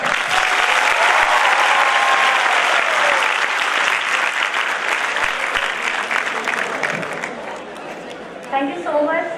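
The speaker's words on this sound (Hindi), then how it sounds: "Now clap for you people once." Loud, dense clapping from a seminar audience at a college commerce event, sustained for several seconds then thinning out, with voices chattering beneath and a speaker talking briefly near the end.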